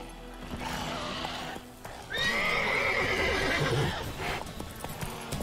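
Roach, Geralt's horse in The Witcher 3, gives a loud, close whinny lasting about two seconds, with hoof clip-clops and ambient game noise around it.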